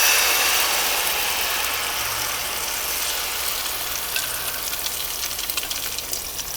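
Tofu pieces frying in a pan over rising heat, a steady broadband sizzle filling the whole stretch with faint crackles toward the end, no voices.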